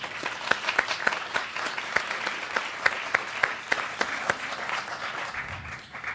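Moderate applause for Mary Louise Covington at a Valentine's founders' event, with several distinct nearby claps standing out over a softer crowd, fading at the end.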